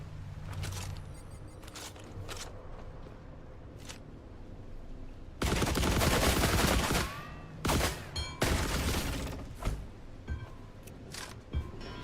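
Bursts of gunfire from the video game The Last Caretaker: scattered faint shots, then a loud sustained volley of rapid fire followed by several more sharp bursts, with a voice occasionally present.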